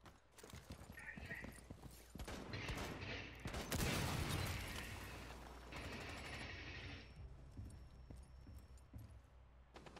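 Rapid gunfire in Rainbow Six Siege: dense clattering shots and impacts with a sharp loud crack near the middle, mixed with game effects and muffled voices, quiet and somewhat distant overall.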